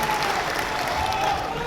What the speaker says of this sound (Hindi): मैं चाहूंगा इस बार जोरदार ताली से आप सब लोग उनका स्वागत करें।